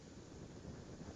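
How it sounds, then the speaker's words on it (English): Steady low wind rumbles and buffets against the microphone at an Astra rocket test flight launch attempt, a constant dull roar with no voices. "Oh, it's windy."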